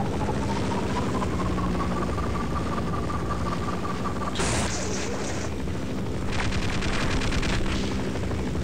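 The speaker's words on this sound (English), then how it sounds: "I like to wait until the chopper flies by to the right side. Then I wind up a charge and fire at the chopper with the orange gun again." A helicopter drones steadily overhead in Half-Life while a charged orange energy gun fires at it. One sharp blast cuts in midway, followed by a rapid burst of crackling shots, all loud and close over the constant rotor hum.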